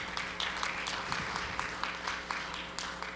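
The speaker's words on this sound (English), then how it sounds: "So hands on, big round of applause for yourself." A conference audience at a keynote in Las Vegas claps in a short burst, with scattered, moderately distant hand claps and faint voices underneath.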